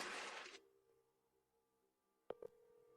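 A telephone busy signal sounds on an unanswered call, heard as a faint steady tone after a brief burst of noise, then interrupted by a couple of short clicks.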